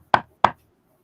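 A voice imitates knocking on a door with two sharp, close knocks spaced about a third of a second apart, then silence.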